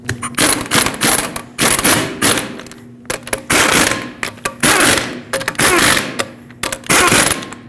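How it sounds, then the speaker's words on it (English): Lug nuts on a 2013-2019 Ford Escape wheel are run down and torqued with a tool, giving loud close bursts of ratcheting and clattering separated by short pauses. "We'll bottom them out in a cross pattern, and then also in a cross pattern, torque them to 100 foot-pounds."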